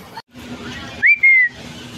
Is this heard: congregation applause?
no